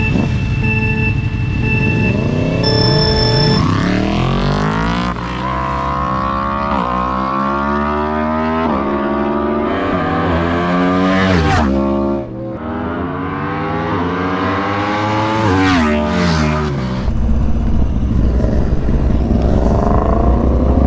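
A Ducati and a Yamaha MT10 motorcycle accelerate hard along Mulholland, their engines revving loudly and climbing through repeated rising gear pulls close by, with no talk over them.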